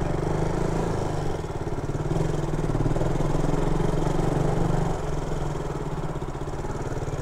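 A Bajaj KTM motorcycle idles close by at a service center, a steady low engine rumble with a slight rise in the middle, running alone without talk.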